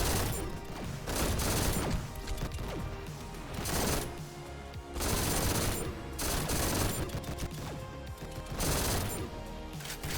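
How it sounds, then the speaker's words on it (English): Thunderlord gun in GTTOD: Get To The Orange Door firing in long, loud sustained bursts of rapid automatic shots, several bursts separated by short pauses. "It feels like the Thunderlord hitches a little bit when you first start firing it."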